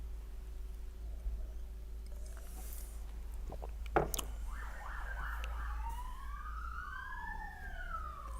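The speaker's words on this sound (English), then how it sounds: "Siren. I don't know if you heard it" A police or ambulance siren wails at a distance, sweeping up and down in long rising and falling tones over a low steady hum, with a brief knock just before it starts; no one speaks.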